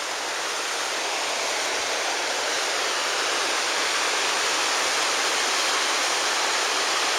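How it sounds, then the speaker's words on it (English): A waterfall on Kolob Mountain in Zion National Park pours without pause, a dense, even rush of falling water heard up close and alone. "And the sound of that waterfall is mesmerizing."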